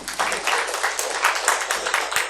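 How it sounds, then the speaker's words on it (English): A conference audience at a Magento developer meetup in India applauds, with a continuous rattling patter of many hands that swells in uneven waves throughout, fairly distant and without talk. "So again, a huge round of applause for yourselves."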